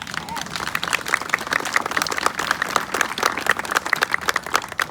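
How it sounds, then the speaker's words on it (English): Crowd at a charity walk event applauding, a steady dense wash of many hands clapping with some crowd murmur, continuous and fairly loud throughout. "So I just really want to give her a round of applause."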